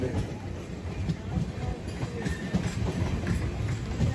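The Falaknuma SuperFast Express rolls into Cuttack Junction, with a steady low rumble and rhythmic clickety-clack of wheels over rail joints and a faint squeal from the wheels.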